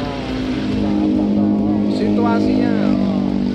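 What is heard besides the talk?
motorcycle with open exhaust roaring loudly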